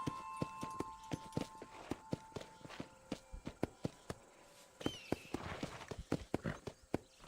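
Horse hooves walking in the video game Red Dead Redemption, a steady rhythmic clip-clop of distinct close hoofbeats with a faint tonal background, and no speech.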